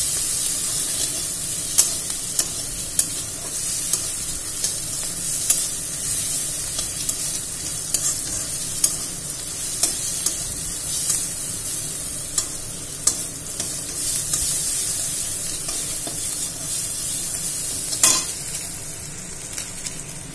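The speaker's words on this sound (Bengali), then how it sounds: "দিয়ে এগুলোকে এবার ফ্রাই করতে হবে।" Food fries with a little turmeric in a pan, giving a continuous close sizzle with frequent light clicks and scrapes from stirring.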